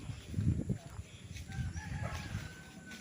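Chickens on a farm lot in Liliw, Laguna, with a rooster crowing and hens clucking at moderate distance, a few calls rising and falling over faint background murmur.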